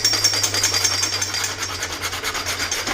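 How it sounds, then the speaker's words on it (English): Coarse 80 grit sandpaper scrubbed by hand over a cracked plastic bumper guide, a steady rhythmic rasping of quick back-and-forth strokes, close and fairly loud with no talking. "I'm gonna actually rough it up with some 80 grit"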